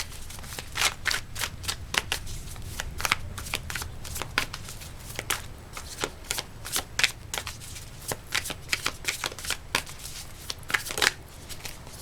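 Tarot cards being shuffled by hand, a continuous close run of riffling flicks and soft slaps over a low background rumble, with no speech.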